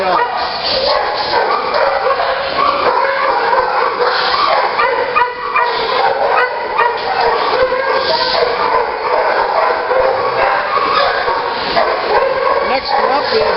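Dogs at an adoption showing bark, yip and whimper repeatedly throughout, close and fairly loud, while a person talks over them the whole time.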